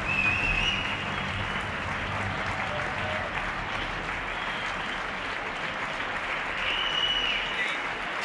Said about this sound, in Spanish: Décimo cuarto día de aplauso sanitario.